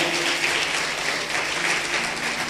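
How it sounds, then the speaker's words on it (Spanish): A church congregation applauding loudly in praise, a dense, sustained roar of many hands clapping at once that fills the whole stretch without a break. "¿Cuántos le pueden dar un fuerte aplauso al Rey de la Gloria?"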